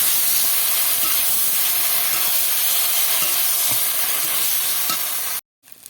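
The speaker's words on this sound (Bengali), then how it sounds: "যে তেল আছে এই তেলের মধ্যে আমি এই পটলগুলো ঢেলে দেব। এবার এটা নাড়িয়ে নেব।" Pointed gourd (potol) pieces fry in hot oil with a loud, steady hiss and sizzle, punctuated by faint stirring clacks, before cutting off abruptly near the end.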